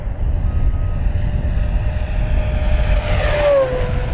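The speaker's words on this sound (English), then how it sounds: "I think it's an 8S airplane, man." An FMS Corsair 1700mm V3 radio-control warbird running on 8S power flies past, its electric motor and propeller whining steadily with wind rumble underneath and a rising then falling pitch as it passes close around the middle.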